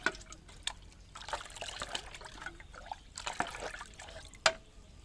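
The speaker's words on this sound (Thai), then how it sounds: "ก็เท น้ำซาวข้าวที่เรา ผสมกับกะปิไว้นะคะเทลงไปเลย" Rice-wash water mixed with shrimp paste is poured onto garden plants, giving a quiet, uneven trickle and splatter with faint drips and small splashes.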